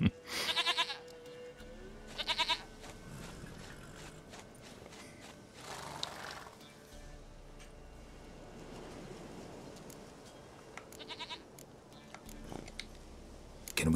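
In The Witcher 3, a goat gives several short bleats spaced across a quiet outdoor scene, with faint hoof clops and soft ambient noise between the calls.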